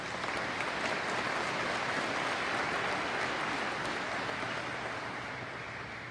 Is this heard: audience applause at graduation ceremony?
yes